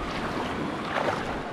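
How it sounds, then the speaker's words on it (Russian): Calm sea waves wash onto the sandy Dzhemete beach near Anapa on a still morning after a storm, a steady broad rush of surf mixed with wind noise, continuous and fairly near. "Волны уже не такие сильные, как вчера были"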